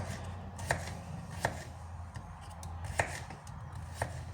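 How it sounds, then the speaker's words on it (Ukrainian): Knife chopping radishes for a salad on a board, with irregularly spaced, sharp, close knocks of the blade over a low steady background hum. "нарізаємо нашу редисочку до кінця"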